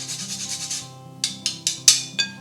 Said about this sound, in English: I'm going to grab our handy dandy microplane and I'm just going to grate in about 1/4 teaspoon of nutmeg into this.